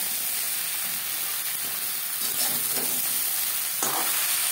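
Ridge gourd stirred together with potatoes and spices in a hot pan, giving a constant frying sizzle with occasional scrapes and clacks of the utensil, close up and without speech.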